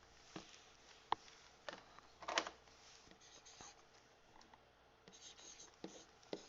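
Pen or pencil scratches out an algebra problem in short strokes and taps, close and faint, with brief pauses between marks.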